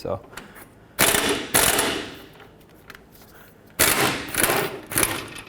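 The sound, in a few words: air gun (impact wrench) removing 18mm bracket bolts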